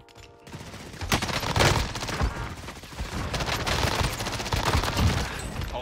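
Rapid automatic gunfire from a video game's Iron Trials duos match, sustained sprays and bursts with loud, dense shots almost nonstop, no talking.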